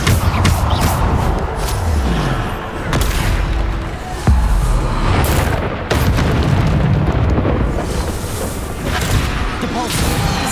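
Explosive blasts from the Bombarda spell in Hogwarts Legacy, fought during the fourth trial, come as repeated loud booms and bursts over dense, continuous combat noise.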